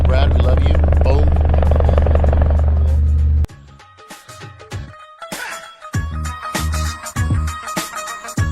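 A helicopter's steady rotor roar fills the first few seconds, then cuts off, giving way to quieter rumbling and scattered knocks.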